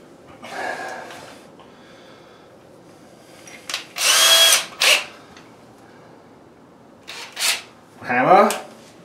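A power drill bores a 6mm hole into a brick wall for bicycle storage brackets, sounding in short loud bursts with pauses between them, alongside nearby handling noises.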